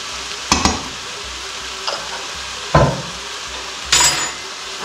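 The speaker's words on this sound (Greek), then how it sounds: "Ανακατεύουμε." A spoon stirs leek filling seasoned with pepper and sweet paprika in a frying pan, giving four separate scraping stirs over a steady, low sizzle.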